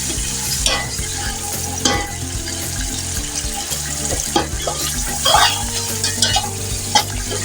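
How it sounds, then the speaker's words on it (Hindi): Tamarind going into spices frying in a pan for beef yakhni pulao, with a steady sizzle and repeated scraping stirs close up, plus some watery clatter, no talking. "उसके बाद मैं इसमें डाल दूँगी ये इमली, जो कि तकरीबन 2 टेबल स्पून इमली है भर के।"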